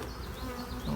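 Honeybees buzz steadily around drawn frames in an open hive, a close, dense hum rising slightly toward the end, with no talking.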